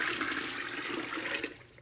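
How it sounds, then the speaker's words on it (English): Warm salt water is poured into cold plain water to make a brine, giving a brief, steady splashing rush of liquid close by that fades out at the end. "now we're gonna take this warm-ish salt water and put it in the really cold plain water"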